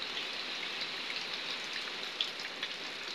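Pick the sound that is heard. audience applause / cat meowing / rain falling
rain falling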